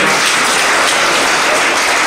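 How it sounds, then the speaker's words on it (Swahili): Dense, continuous clapping from a crowd at a funeral gathering, loud and steady throughout with no pauses. "Jipigie makofi wewe."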